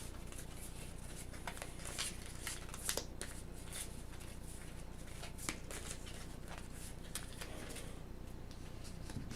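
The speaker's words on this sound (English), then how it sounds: "Shuffle up these beacons." Playing cards from the board game Aeon's End Legacy are shuffled up close, giving quick, crisp papery flicks and snaps in an uneven rhythm.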